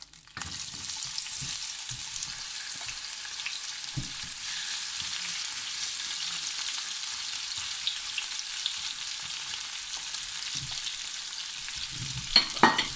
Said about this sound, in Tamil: அதே எண்ணெயில் ஒனியனை போடுவோம்.